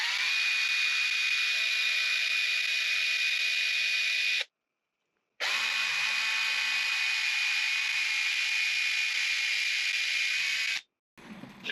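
A power drill whines steadily as it spins to polish an arcade Donkey Kong joystick part with scratch remover and Novus polish, running in two long bursts separated by a short pause.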